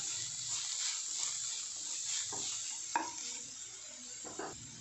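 Carrots and other vegetables for momo filling sautéed in a pan, with a steady broadband sizzle and a few sharp spatula scrapes and knocks near the end; no talking.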